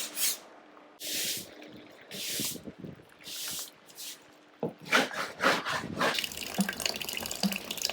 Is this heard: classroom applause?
no